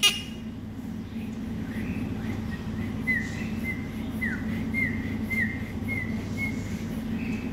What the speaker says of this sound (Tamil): இப்படி விசில் அடித்து காட்டினோம்னா